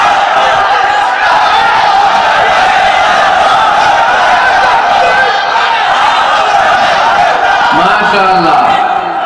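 A large crowd at an outdoor Bangla religious sermon shouts a takbir together, a loud sustained collective roar of many voices filling the whole stretch, with a single voice briefly rising near the end.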